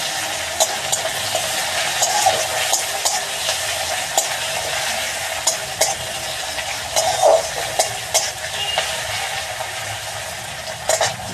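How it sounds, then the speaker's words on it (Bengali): Green chilies fry in hot oil for a Bengali puti fish chachchari, giving a steady close sizzle and crackle with scattered stirring scrapes throughout. "কাঁচা লঙ্কাটা দিয়ে ভালো করে ভেজে নেব।"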